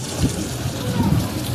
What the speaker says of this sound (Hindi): ये देखो ऊपर से कितना भयंकर पानी आ रहा है